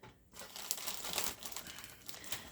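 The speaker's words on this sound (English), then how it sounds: "I'm just taking my peels and a pair of scissors and I'm just kind of cutting them into smaller shapes" Scissors snip fruit peels into small pieces for dehydrating, giving a run of close, crisp crinkling cuts and rustles with no talking.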